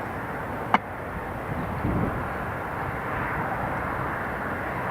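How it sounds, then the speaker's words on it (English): A British Airways airliner rolls and climbs away from Newcastle International Airport on a cold day, a steady, distant engine roar under wind noise, with a sharp click near the start. "There goes the British Airways."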